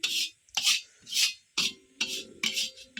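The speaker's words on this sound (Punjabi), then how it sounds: "ਥੋੜਾ ਜਿਹਾ ਦੇਸੀ ਘਿਓ ਪਾ ਕੇ ਅੱਧਾ ਕਿਲੋ ਦੇ ਕਰੀਬ ਤੋਂ ਹੁਣ ਆਪਾਂ ਇਹਨੂੰ ਭੁੰਨੀ ਜਾਂਦੇ ਆਟੇ ਨੂੰ" Flour being stirred and roasted in desi ghee for khoa barfi, giving repeated rhythmic scraping strokes with a gritty rasping texture, close and fairly loud, in regular bursts with short pauses between.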